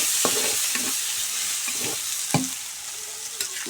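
Onions frying in oil in a pan give a steady broadband sizzle, with several sharp scraping stirs of a utensil against the pan.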